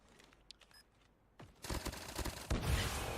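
Gunfire in Call of Duty Mobile during a Snapdragon Mobile Challenge esports match, with a few faint clicks first, then a burst of rapid shots building into a dense loud volley near the end.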